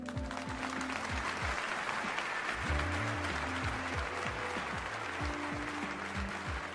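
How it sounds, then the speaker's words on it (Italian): Studio audience applause opening an evening talk show, continuous clapping carried along under a rhythmic musical jingle with repeated low bass notes, steady and full from start to finish. "Applauso!"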